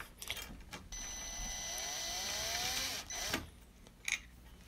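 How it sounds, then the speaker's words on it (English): A power screwdriver runs for about two seconds, whining and rising in pitch as it tightens a bolt and nut through an angle bracket on an edgeless projector screen frame, followed by a few short mechanical clicks and knocks nearby. "add a nut on one side, and tighten with your power screwdriver"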